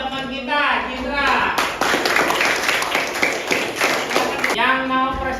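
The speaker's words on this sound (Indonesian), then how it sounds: "tepuk tangan untuk teman kita" Children in a classroom clap for a classmate's presentation, a dense burst of hand claps running for about three seconds, with voices heard before and after.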